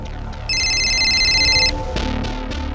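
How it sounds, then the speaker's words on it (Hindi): A telephone ringtone sounds loudly for about a second as a clear repeating electronic tone, cut off abruptly, then a couple of sharp clicks follow over a quiet room background. "खबरी नदीम का फोन है सर"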